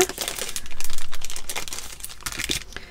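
Rigid plastic adhesive hooks, made of rhodoid, being pulled from their already split plastic packaging, giving close, continuous crinkling and crackling with a brief tearing burst, no voices.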